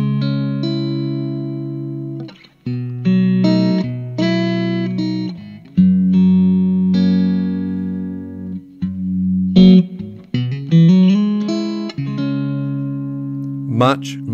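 Electric guitar played loudly through an amplifier, sustained distorted chords and single notes ringing out with a few quick changes and bends.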